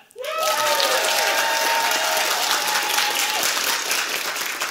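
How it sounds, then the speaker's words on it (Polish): Audience applause at an online improvised comedy evening, steady dense clapping that swells in quickly and holds loud and even throughout. "niech oklaski nie milkną"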